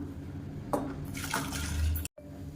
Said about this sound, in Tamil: 2, 3, 4 டம்ளருக்கு தண்ணி ஊற்றிருக்கேன்.